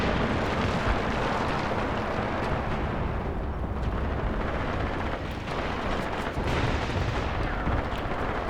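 Tank gunfire during a forest tank duel in the wargame Graviteam Tactics, a dense continuous rumble of booming shots and explosions, loud and sustained without talk.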